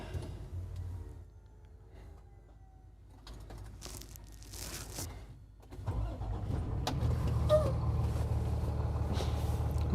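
A 2025 Renegade Verona 40VTS Super C motorhome's engine cranks and catches about midway, then settles into a steady, fairly close low rumble at idle, with no talking.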